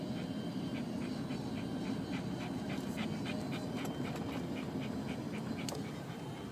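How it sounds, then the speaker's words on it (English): A pet dog named Murphy pants steadily in a vehicle on a mountain drive, her rhythmic breaths running through the clip over a constant low road rumble. "If you hear any odd panting noises, that's Murphy Dog."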